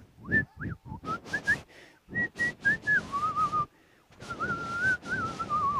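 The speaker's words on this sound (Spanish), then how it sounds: "se alejó victorioso silbando" Someone whistles a tune up close, holding sustained notes with small slides and wavers, broken by a few short breaks.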